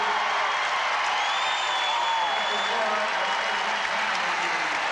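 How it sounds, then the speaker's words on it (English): Arena crowd at the 1984 NCAA women's basketball championship between USC and Tennessee applauding as starters leave the court, a steady wash of clapping and crowd noise with a commentator talking over it. "listen to the applause for some of the starters as they leave."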